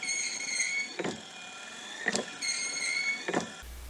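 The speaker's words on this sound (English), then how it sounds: "Here's the wiper motor in action" An old Volvo's windshield wiper motor runs with a steady whirring hum, and a swishing sweep returns about every second across three strokes, close up with no talking.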